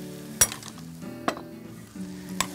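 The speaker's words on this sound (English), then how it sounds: "And we just lightly saute that with the shallots and the garlic, just to coat everything and get it all coming together." Pre-cooked smoked barley sautés with shallots and garlic in a pan, giving a steady soft sizzle broken by three sharp clinks of a spoon against the pan, with no talking.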